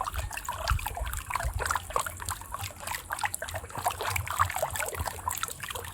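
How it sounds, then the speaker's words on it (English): Water trickling and dribbling out of freshly processed wolffia plants as they drain, a continuous uneven patter of small drips and splashes close by. "This process is allowing all water to drain from it."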